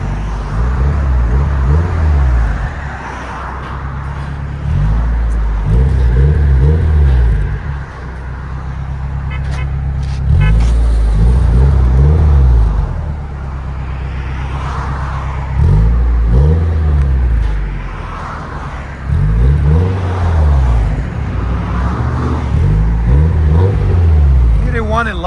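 A 1994 Nissan 240SX with a 2.4-litre engine and HKS Sport cat-back exhaust revs repeatedly: loud, deep, clean blips rising and falling in about half a dozen bursts with idle between them, close by.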